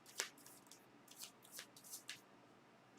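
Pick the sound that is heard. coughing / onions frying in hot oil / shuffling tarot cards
shuffling tarot cards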